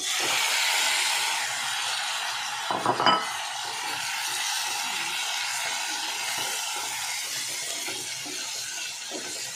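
Katla fish pieces added to a pan over ginger, garlic, onion and tomato give a steady broad hiss of frying throughout, with a brief clatter of stirring near the middle; no talk.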